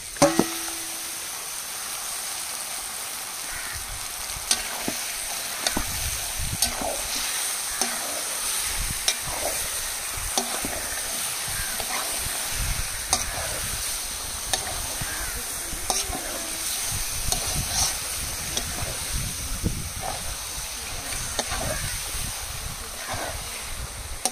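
Chicken pieces frying and being stirred with spices in a pot for chicken biryani, a steady sizzle with frequent scraping stirs throughout, with a voice talking over it.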